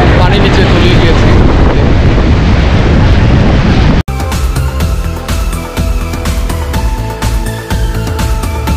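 Strong storm wind roars across the mic at Kuakata beach, a dense, loud rush for the first half, then a sudden cut to a gusty, buffeting continuation.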